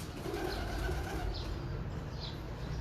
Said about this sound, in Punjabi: ਇਹ ਸਾਡਾ ਪੁਰਾਣਾ ਕਬੂਤਰ